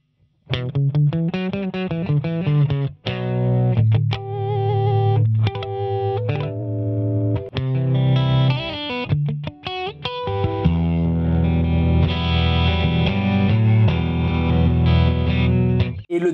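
Electric guitar through a chain of effect pedals into a Kelt amp with a little gain, playing busy, fast melodic lines with bright, effected tone, loud and continuous throughout without talking.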